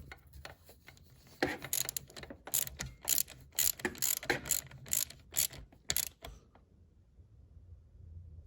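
Rapid bursts of ratchet clicking from a hand ratchet tightening a nut on the brake booster pump of a 2011-2014 Cadillac CTS coupe, close and fairly loud in repeated strokes, then quiet.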